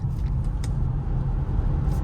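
A 2021 Volvo Polestar 2 Performance Pack electric car accelerates hard, giving a steady low road rumble and drone with faint whine, heard from inside the cabin without talk.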